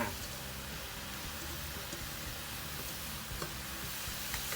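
Spring roll filling with glass noodles stir-fried in a pan, a steady, dense sizzle and scraping of the stirring utensil running continuously, close up with no talk.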